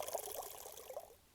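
Water pours from a snake's-mouth spout of a village fountain in Spain, a short, soft, close splashing trickle that fades slightly toward the end.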